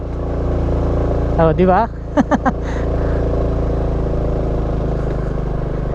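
A stock Honda XRM motard motorcycle hums along steadily in second gear, with the engine drone continuous throughout while a rider talks briefly over it midway.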